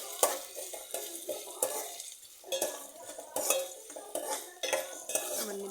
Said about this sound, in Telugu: బాగా వేగేంత వరకు కలుపుకోవాలి